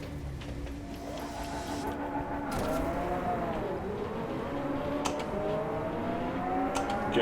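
A race car engine in Driveclub VR revs and holds a steady drone, its pitch sweeping up and down as the car gets under way. It is fairly quiet, with no talk.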